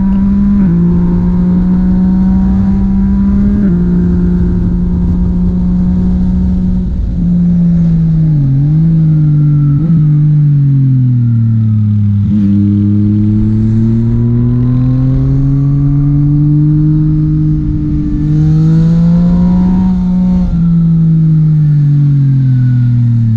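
A big bike's engine roars and revs continuously up close while overtaking on a winding mountain road between Chiang Mai and Pai, pitch climbing and dropping with each throttle change, loud throughout.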